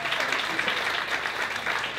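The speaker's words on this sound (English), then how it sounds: "I want to give a big round of applause to everyone." Audience applause at a live music performance, a continuous, fairly faint and distant-sounding patter of many hands with no break.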